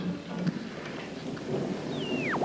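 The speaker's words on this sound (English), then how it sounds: "We can't even send word through this storm." Thunderstorm in a horror film: steady heavy rain with a low rolling rumble of thunder beneath it, continuous and fairly loud, with a brief sweeping whistle-like tone toward the end.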